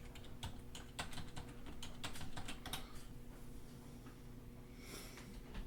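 Password being typed on a computer keyboard during a Linux server install, with a quick run of soft, close key clicks over steady room hum, then fading to near quiet.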